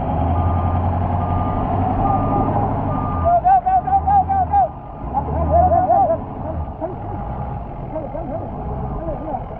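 A truck is pushed free from a beach parking lot while its reversing alarm beeps steadily and the engine idles nearby, with voices calling out across the effort.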